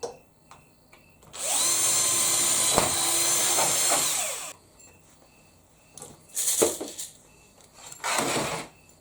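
A power drill whines steadily for a few seconds as it bites into a steel drawer, followed by scraping and clattering handling noises.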